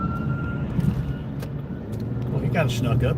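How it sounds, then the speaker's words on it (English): An ambulance siren wails faintly in the distance and then swells into rising, wavering tones near the end, under road noise from a moving car while people talk. "Ambulance."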